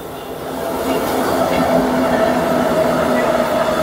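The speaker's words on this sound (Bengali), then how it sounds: "আচ্ছা, এটা হচ্ছে মালগাড়ি।" A freight train rolls past a station platform, a steady loud rumble of wagons with a faint tonal whine running through it, continuous throughout with no pauses.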